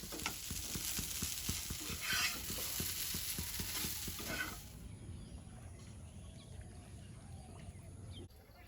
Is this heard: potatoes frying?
yes